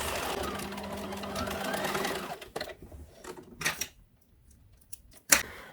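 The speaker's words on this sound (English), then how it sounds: "Just going to zigzag it right around." Sewing machine running zigzag stitches around a fabric corner: a rapid steady whirring stitch for about two seconds, then short stop-start bursts and pauses as the work is turned.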